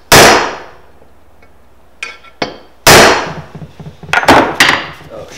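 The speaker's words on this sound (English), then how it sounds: "So I'm just going to take my center punch," A hammer strikes a center punch to mark a steel tube for drilling, a few sharp metallic whacks and clangs close by with quieter knocks and handling between them.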